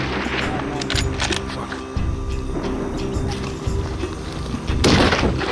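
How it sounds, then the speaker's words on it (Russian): A single sharp rifle shot cracks out loudly near the end, rising above a steady rumbling outdoor background, during a Himalayan tar hunt in Nepal. "Охотник совершил второй выстрел."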